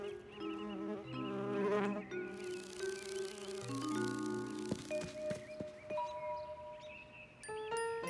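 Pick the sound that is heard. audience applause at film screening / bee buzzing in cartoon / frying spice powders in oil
bee buzzing in cartoon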